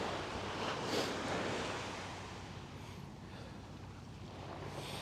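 Ocean surf rolls onto Coney Island beach in winter, a steady broad wash of breaking waves mixed with gusting wind buffeting the microphone, continuous and fairly close throughout.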